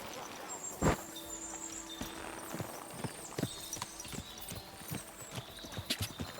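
Horse hooves clip-clop at a walking pace in the video game Kingdom Come: Deliverance 2, with several irregular, fairly crisp hoof strikes and a faint snort among them.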